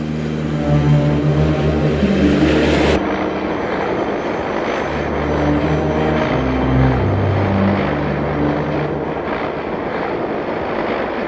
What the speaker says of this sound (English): a new water bomber, the CL415, is rolling off the assembly line at Canadaire's Montreal plant.